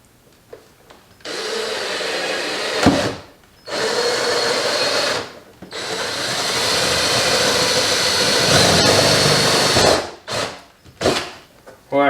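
A pneumatic drill whines loudly in long sustained bursts while drilling, enlarging holes and riveting on an aircraft wide body, with short pauses between runs and brief rapid rattling bursts near the end, close to the listener.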